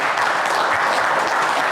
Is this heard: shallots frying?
no